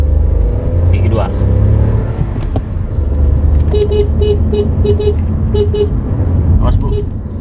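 A Daihatsu Rocky with a 1000 cc three-cylinder turbo engine accelerates hard through the gears, its steady, loud engine drone heard from inside the car, with a short run of repeated horn-like beeps near the end.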